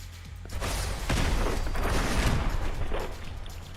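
Gunfire in a Fallout 4 fight, a dense run of loud, close shots and heavy thumps that build after a quieter opening and roll on steadily with low booming impacts.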